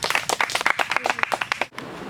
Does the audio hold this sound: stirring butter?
no